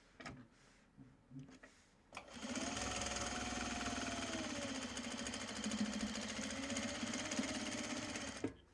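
A sewing machine stitching a Japanese fabric bag, a few soft handling knocks first, then a fast, steady close mechanical whirr and rattle of continuous stitching that runs to the end.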